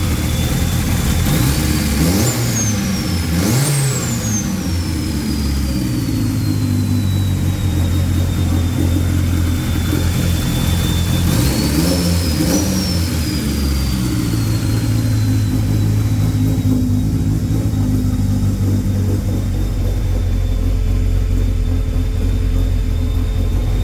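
Fresh turbocharged engine with a fabricated turbo kit in a small 5-speed car, running loud and steady with two sharp blips of revs and turbo whistle early on, then a settled idle.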